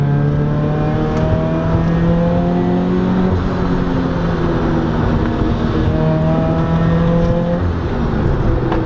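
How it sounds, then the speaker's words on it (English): A supercharged Subaru BRZ engine revs hard and climbs in pitch with a steady mechanical supercharger whine, loud and close throughout with no talking. "Listen to that supercharger."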